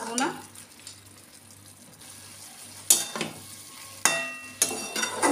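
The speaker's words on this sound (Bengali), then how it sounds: "বাটা মশলা দিয়ে একটু কষবো" Ridge gourd being sautéed in a pan with ground cumin-coriander paste and no turmeric gives a soft, low sizzle, broken by a few sharp scraping stirs of the spatula against the pan, close by and moderately loud.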